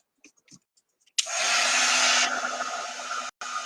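A handheld dryer blows on a Chalk Couture ornament as a loud, close, steady roar, which stops abruptly near the end after a few soft handling sounds.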